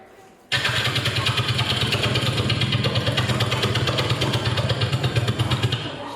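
A voice imitates a helicopter with a steady, loud, rapidly pulsing mouth drone that starts abruptly and continues evenly for several seconds without a break.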